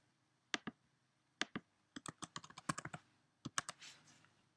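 Login ID and password entered on a computer keyboard, quiet close key clicks in short uneven bursts with a quick run of strokes in the middle, no voices.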